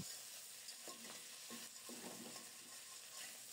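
A fish head fries in a small amount of oil over low heat, giving a continuous soft sizzle broken by a few brief scraping stirs; fairly faint and without talk.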